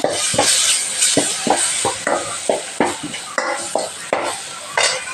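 Chopped tomatoes go into a hot frying pan with curry leaves and coriander for a trotter kuzhambu, raising a loud sizzle punctuated by a regular rhythm of spatula scrapes and knocks against the pan.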